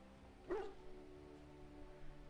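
A single short dog bark from a companion dog in the fantasy game Dragon Age: Origins, sounding once near the start over a quiet background hum, with faint game ambience afterward.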